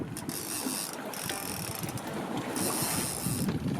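A fishing reel winds down during a salmon derby on a boat, giving a close, steady whirring and clicking mechanical grind under wind noise.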